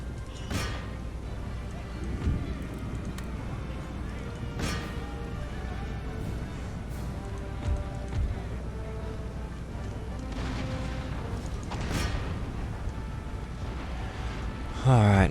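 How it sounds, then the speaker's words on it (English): Cannons fire through a busy video game battle, with repeated booming shots at irregular intervals over a steady din of fighting and hoofbeats. A voice talks over it. "now the cannons are opening fire"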